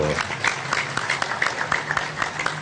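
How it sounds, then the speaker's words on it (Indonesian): An audience at a religious lecture claps in a steady, fairly loud round of applause, many hands close together, with a faint voice mixed in. "Tepuk tangan untuk Ibnu"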